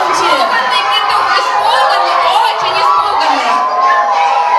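A crowd of children at a New Year's party loudly imitates a rooster crowing, many overlapping voices shouting and whooping at once in a steady, dense clamor that fills the room without a break.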